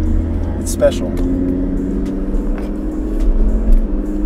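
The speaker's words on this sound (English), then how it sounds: "those sounds, those little turbo flutters" Engine drone from inside a 510 hp Stage 3 tuned Audi RS3 on coilovers, with a brief fluttering turbo chatter standing out near the start while a person talks over the steady cabin hum.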